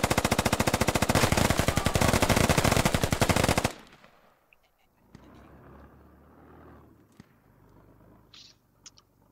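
Heavy .50 cal machine gun in a military shooter game firing a long rapid burst of loud, evenly spaced shots for nearly four seconds, then quieter rumble with scattered distant gunshots and clicks.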